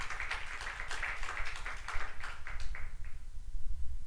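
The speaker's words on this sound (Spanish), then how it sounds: "Y eso merece un fuerte aplauso al Señor" A church congregation applauding, a run of brisk clapping from many hands at moderate distance that stops after about three seconds, followed by a quiet room.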